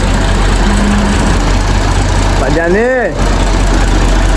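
A tractor engine idles on a farm after night rain, a steady low rumbling drone that runs through the whole stretch beneath close conversation.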